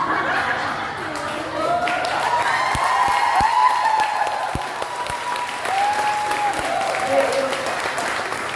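Sustained audience applause in a church setting fills the space with dense clapping, a voice faintly sounding over it, the clapping gradually thinning and softening toward the end.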